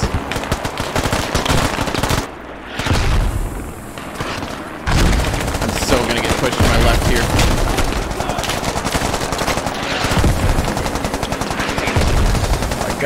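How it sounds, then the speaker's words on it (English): Dense, loud bursts of machine-gun fire and booming mortar impacts from a Squad battle pound almost without pause, briefly dropping away twice before resuming, with shouted talk buried under the din. "Gosh, the mortars!"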